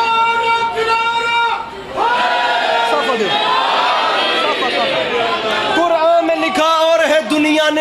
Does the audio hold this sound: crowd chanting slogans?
yes